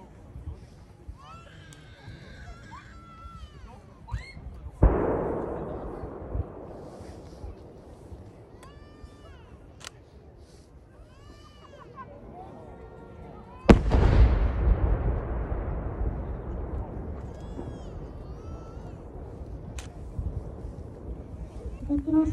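New Year's Eve fireworks in Japan burst in two loud booms several seconds apart, each trailing into a long crackling rumble, with whistling rockets and quieter pops between.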